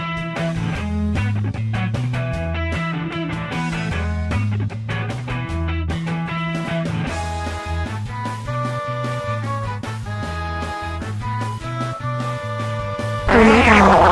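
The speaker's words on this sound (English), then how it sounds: "Ha, that's one hot fart." A long, loud cartoon fart buzzes in a stuttering, tonal rhythm for many seconds, ending in a brief noisy burst, with no talk over it.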